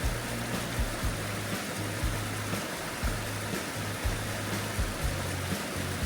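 A mountain stream flows on the Alum Cave Trail with a steady, full rushing wash of water close by. It continues without a break and is joined by a faint repeating low hum.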